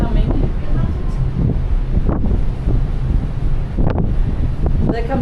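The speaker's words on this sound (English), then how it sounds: "We can definitely feel the wind coming." Strong wind buffets the microphone at Stromness, South Georgia, a loud, continuous roar with gusty surges and rumble throughout, over distant surf.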